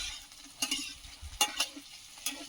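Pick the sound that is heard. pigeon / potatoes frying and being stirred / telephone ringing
potatoes frying and being stirred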